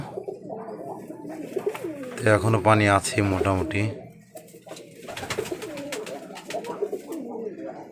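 Pigeons coo close by in a Rajshahi loft, a burst of deep rolling calls in the middle while someone talks over and around them.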